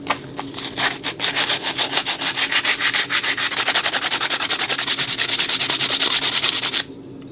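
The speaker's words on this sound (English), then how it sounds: "Okay, now I'll sand it." Hand sanding a wooden spinning top: steady rapid back-and-forth rasping strokes, close and loud, continuing for several seconds before stopping abruptly near the end.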